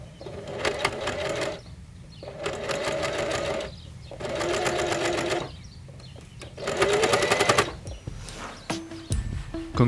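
A sewing machine stitches the hem of homemade climbing pants in four steady, rattling runs of several seconds each, broken by short pauses, loud and close with no talk.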